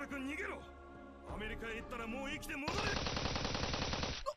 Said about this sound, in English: Shimiyama's scream was cut off by the sound of gunfire